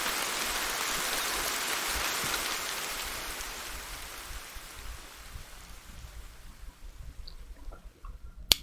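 Steady rain hisses across the scene in the video game Ender Lilies, loud at first and then slowly thinning and fading as it stops, with a few faint ticks near the end.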